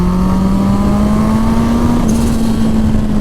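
A 300hp turbocharged Suzuki Hayabusa engine drones loud and close, its tone rising slowly and then easing back, a steady mechanical hum with a brief whistle near the end.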